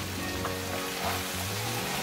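Vegetables frying in oil with red chili powder, Kashmiri chili and garam masala for Bhogi bhaji, a steady close sizzle with a low hum underneath, no talk.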